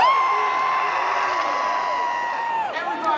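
A lively concert crowd in Denver cheers and screams continuously, with high whoops and shouts layered into a steady roar that dips briefly near the end.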